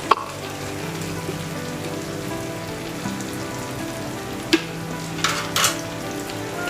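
Fried sea fish goes into a pan with taro stolons (kochur loti) and gets stirred. There is a soft, steady sizzle with a few sharp utensil knocks against the pan, fairly quiet, under a faint tonal background.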